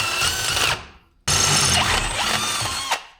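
A power drill bores out transmission mount holes in a cast front tab under a Quad 4 Beretta Z26, in two close whining bursts separated by a brief pause.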